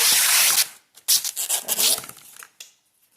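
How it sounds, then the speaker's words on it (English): Protective plastic film being peeled off a new Tiktecklab A4 tracing pad, heard as two loud ripping, rasping pulls close by, the first about half a second and the second longer and uneven, with a short snap near the end. "it says to remove this protective film."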